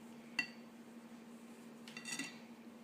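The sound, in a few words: mixing butter and flour by hand in a bowl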